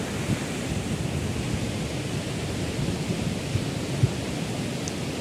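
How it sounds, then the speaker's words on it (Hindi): The Ganges rushes beside the Gaumukh trail above Gangotri, a loud, steady roar of fast mountain river water filling the whole clip with no voices. "गंगा नदी जो बह रही है, इसकी आवाज़ सुन सकते हैं आप।"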